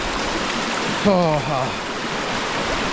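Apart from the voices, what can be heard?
strong fast river flowing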